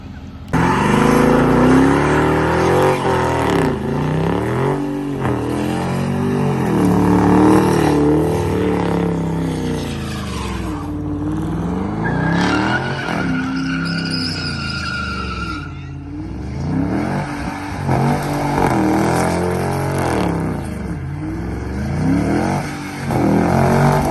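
A car slides and skids, its engine revving hard while the tires squeal and smoke, loud and close throughout with excited voices shouting over the noise.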